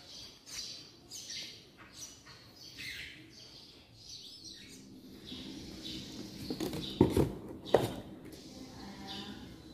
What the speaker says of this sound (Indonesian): Namanya suara burung.